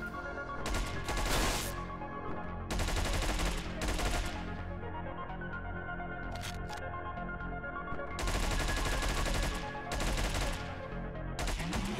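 Rapid gunfire from Hotline Miami 2: Wrong Number as enemies are headshot, with dense bursts of shots in several loud clusters over a steady game soundtrack, no talk.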